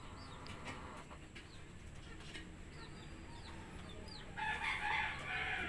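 Rhode Island chickens cluck faintly in a yard amid steady background noise, with quick chirps throughout and a brief louder burst of calls near the end.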